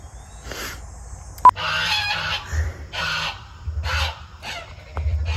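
Several geese honk and squawk loudly at close range in a series of harsh, overlapping calls, with brief pauses between bursts.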